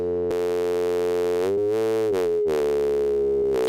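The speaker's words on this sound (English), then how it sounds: "make a comparison for a sine wave with the hard sync" A Shakmat Banshee Reach synthesizer plays a sine wave with hard sync, a steady buzzy tone rich in harmonics that shifts pitch in several abrupt steps, loud and alone.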